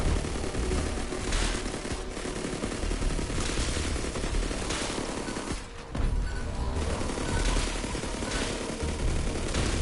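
Dense, continuous automatic gunfire in the video game Borderlands 3, with rapid bursts layered over each other, loud and sustained, with a short dip in the middle.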